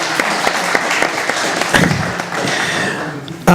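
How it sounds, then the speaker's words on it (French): An indoor audience claps together for a performer named Charlotte, a dense, fairly loud burst of applause that holds for a few seconds before thinning out. "on peut applaudir Charlotte, s'il vous plaît,"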